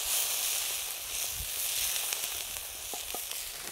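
Garlic frying and sizzling in a pan over a fire, a steady close hiss running alone throughout with a few faint clicks of stirring.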